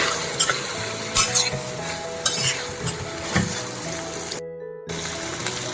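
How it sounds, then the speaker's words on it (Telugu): Masala being stirred into a raw prawn and tamarind-leaf curry, a steady sizzle with repeated scraping strokes of the spoon against the pan, close and fairly loud, no talking. "ఈ మసాలా అంతా పట్టేదాకా ఇలా పైకి కిందకి కలుపుకుంటే"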